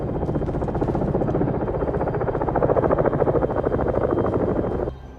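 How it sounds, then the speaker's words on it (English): A video game helicopter drones steadily overhead, muffled as if heard from inside a building, with a continuous rumbling whir that cuts off abruptly near the end. "Hear the helicopter hovering overhead from inside a building."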